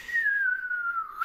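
A person whistles a long, slowly falling tone that imitates a bomb dropping through the air, clear and close with nothing behind it.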